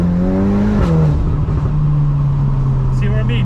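A tuned VW Mk8 Golf R on the stock turbo pulls hard with a rising engine note, then drops abruptly on a quick upshift and climbs again in the next gear, loud and close. A brief voice-like sound comes near the end.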